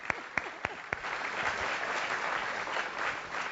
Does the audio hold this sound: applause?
yes